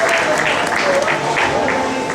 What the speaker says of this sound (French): nous pouvons applaudir pour les pères visiteurs